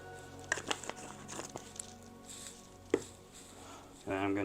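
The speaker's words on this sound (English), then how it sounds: "And I'm going to go ahead and just chop some more" Food being chopped for breakfast tacos, a handful of scattered knife taps on a board, quiet and irregular, with one sharper knock partway through and a shuffling rustle near the end.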